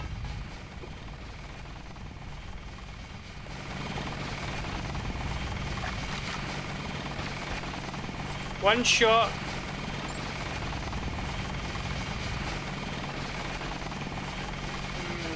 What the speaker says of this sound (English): Do we use the helicopter to escape or something?